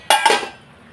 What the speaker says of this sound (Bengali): ঢাকনা খুলে দিলাম,